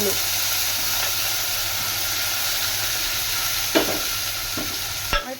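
Browned onions and chopped tomato sizzle steadily in a pan for a village-style okra and dried fish curry, a continuous fry hiss broken by a few sharp clicks of a spoon stirring against the pan.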